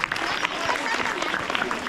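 An audience applauds performers of a Bohada folk dance at a tribal pride day event at an ashram school in Dhamangaon, a dense patter of clapping close by, with a voice speaking over it.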